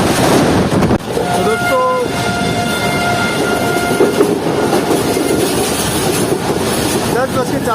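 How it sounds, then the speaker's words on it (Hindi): The 4 Down Bolan Mail, the Quetta–Karachi express, pulls into Jampir railway station with a loud horn blast, rumbling wheels and rhythmic clickety-clack close by, the horn sounding again briefly near the end. "बस के 40 मिनट पर जो है ट्रेन पहुंच रही है जमपीर रेलवे स्टेशन पर।"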